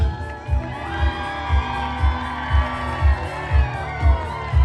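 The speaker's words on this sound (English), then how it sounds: "We need to hear your cheers nice and loud as Queen Sam and her horse Ren take this jum" Crowd cheering and shouting at a horse show arena as a bareback rider takes a jump, with rising whoops over a steady, rhythmic low thumping beat.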